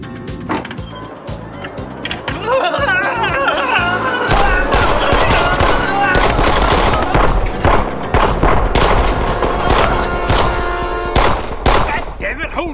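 Dense, loud gunfire in a movie shootout, rapid overlapping shots and sharp cracks in steady bursts that go on throughout, with a voice faintly mixed in.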